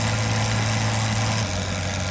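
Airplane engine in a Roblox flight simulator game, a steady droning hum with a low tonal whine that drops in pitch and eases slightly as the throttle is pulled back partway through.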